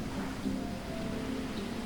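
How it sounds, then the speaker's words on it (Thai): Rain falls in the survival video game Stranded Deep as a soft, steady wash of even hiss with a faint low rumble underneath. It continues without break and no one talks over it. "ฟ้าคึมคึมฝนมันก็ตก"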